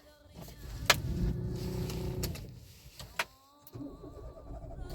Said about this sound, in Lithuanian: Užsivedė be problemų.